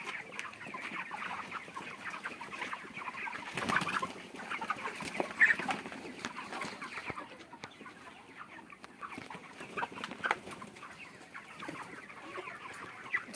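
Broiler chickens cluck in a poultry shed near the end of their 40-day growout, a busy overlapping chorus of clucks and murmurs at moderate distance with occasional louder calls and no talk.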